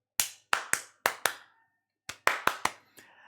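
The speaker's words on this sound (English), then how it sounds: "Listen to how loud my claps are." Two quick bursts of loud, crisp hand claps right up against the microphone, five in the first run and four in the second after a brief gap, alone in an otherwise silent room.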